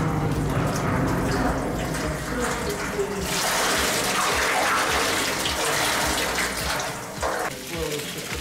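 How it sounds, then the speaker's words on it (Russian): Wine running by gravity from a metal tray through a hose into a tank in a lower room of a Russian winery, a steady close pouring and splashing that swells in the middle, with a voice talking over it. "металлический поддон, из которого по шлангу выливается в емкость, расположенную в нижнем помещении."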